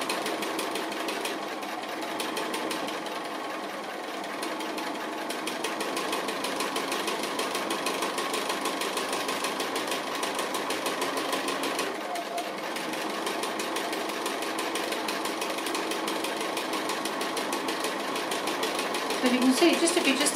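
Sewing machine doing free-motion appliqué stitching on a small piece, a steady close rapid needle chatter running continuously throughout, with a voice talking over it.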